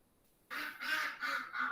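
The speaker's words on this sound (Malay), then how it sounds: "Kau dengar tak? Dengar itik tak?" Ducks quack outdoors in a city, four bright nasal calls in quick succession, close and clear after a short quiet moment.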